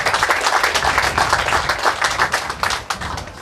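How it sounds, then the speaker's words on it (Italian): An audience at a poetry award ceremony applauds a winner, a close, loud burst of clapping with individual hand strikes audible in an uneven rhythm that eases slightly toward the end. "Quindi un applauso a Bernardo Carollo."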